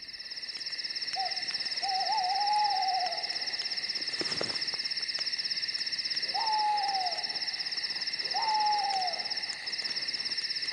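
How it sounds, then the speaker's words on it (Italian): A sinister owl hoots three times over a steady bed of night crickets, each call a clear, mid-distance wavering hoot against the constant insect drone. "Aggiungiamo il verso sinistro di un gufo."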